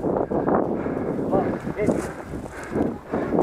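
Wind buffets an outdoor microphone during an airsoft game on a Mad Max–themed field in Itu, a steady rough rumble with gusts throughout, while players talk nearby.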